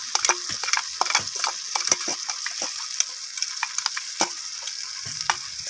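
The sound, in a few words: cabbage curry with poppy seed and peanut paste being sautéed and stirred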